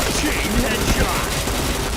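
Video game gunfire crackles in steady rapid bursts through the whole stretch, loud and dense, with faint voices underneath.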